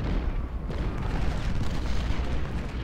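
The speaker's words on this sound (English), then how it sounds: "These cannons are doing a great job." Cannon fire in the Civil War strategy game Ultimate General, Battle of Fredericksburg: a dense, continuous rumble of booming artillery with no clear gaps between shots, loud and steady throughout.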